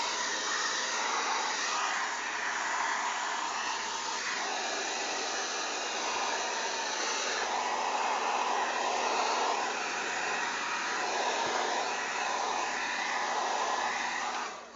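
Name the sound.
hair dryer with diffuser drying natural curly hair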